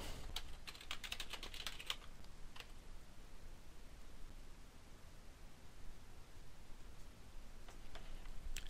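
Fingers typing on a computer keyboard, a quick cluster of light key clicks at the start, then a few scattered taps later over a quiet hiss, close and fairly soft.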